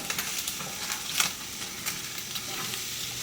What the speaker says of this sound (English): Let me stir this real quick.